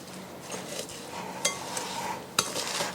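Steamed, peeled pumpkin is mashed with sugar in a bowl, producing soft irregular squelching and scraping with a couple of sharper utensil clinks against the bowl, fairly quiet and close.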